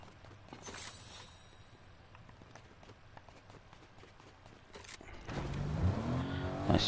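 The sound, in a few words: car engine driving in Fortnite video game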